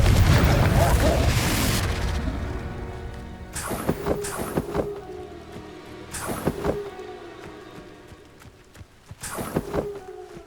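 Confringo blasting spells detonate in Hogwarts Legacy, opening with a heavy rumbling blast, then three sharp explosive bursts spaced a few seconds apart, each ringing out and fading.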